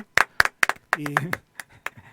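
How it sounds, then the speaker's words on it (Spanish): A few sharp, separate hand claps ring out in a studio for a radio control room operator, sparse and close, mixed with someone speaking. "Aplausos, ¿no?"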